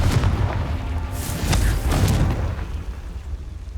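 Spell blast from Confringo in Hogwarts Legacy: a rumbling explosive boom with crackling burst early on, decaying into a low roaring tail, loud and close without any talk.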